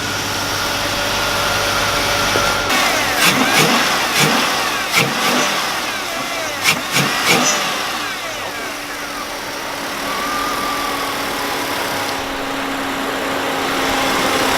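A repaired car engine cranks and catches, then settles into a steady idle with a few sharp revs and clicks, loud and close throughout with no speech.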